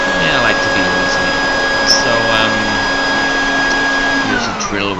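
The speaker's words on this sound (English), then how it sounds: "so use a drill wherever I can" A power drill runs continuously while a fan is swapped out in an ETS Sun Star tanning bed, giving a loud, steady whine with a pitch that holds, then drops slightly near the end.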